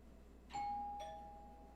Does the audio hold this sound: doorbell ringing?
yes